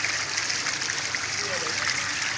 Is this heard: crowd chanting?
no